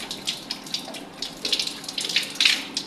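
Tap water running during Shia wudu ablution, a steady splashing flow with irregular bursts as hands and face are rinsed, close and fairly loud with no talking.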